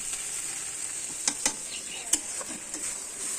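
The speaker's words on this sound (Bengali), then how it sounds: "আমরা এসছি চিকেন রান্না হচ্ছে" Chicken frying in a pan, a steady close sizzle with a few sharp scrapes and clinks of stirring, no talking.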